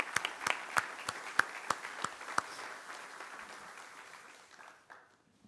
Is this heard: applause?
yes